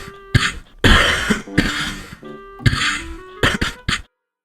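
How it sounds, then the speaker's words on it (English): Several harsh, wet coughs from a sick person come in bursts, close and loud, with short pauses between them and a final few quick hacks. "One of the worst parts of being sick to me is coughing."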